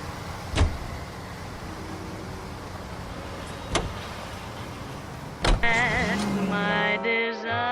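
A car in the L.A. Noire video game gives a few sharp clunks, like a door shutting, then a steady electric motor whine, like a power window, over a constant low interior rumble.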